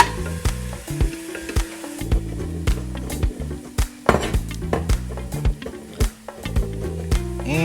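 Onions sizzle in olive oil for a jerk chicken dinner, with a steady frying hiss broken by repeated clanks and scrapes of a utensil stirring the pan, close and fairly loud.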